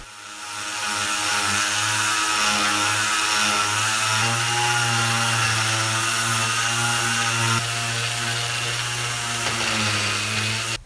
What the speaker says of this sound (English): I'm going to sand both pieces using 150 grit sandpaper and then 220 grit sandpaper